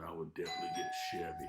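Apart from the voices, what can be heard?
doorbell ringing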